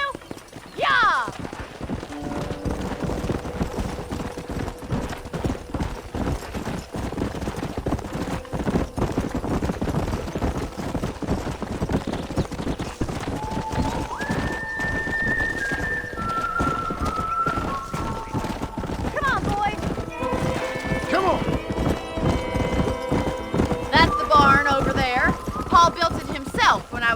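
In the Red Dead Redemption video game, a horse gallops with a steady clip-clop of hooves, along with a brief whinny and other game sounds.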